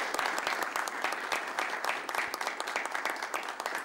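Applause from a seated conference audience after a talk, sustained and fairly distant, with individual claps standing out in a steady rhythm throughout.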